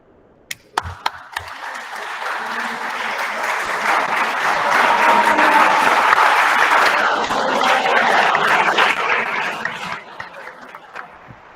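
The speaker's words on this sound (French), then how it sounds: "Tu as pu constater à travers les applaudissements, tout l'engouement que cela a suscité" An audience applauds after a talk on Android and minimalism. A few scattered claps open it, then the clapping swells into a loud, dense, sustained ovation that gradually thins out toward the end.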